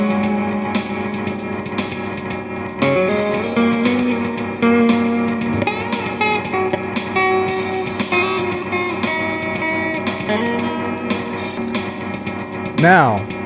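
A drum pattern joins a looped instrumental track built with a looper, reverb and sustain effects, the steady beat layered under sustained tones at moderate, even loudness with a rising sweep near the end.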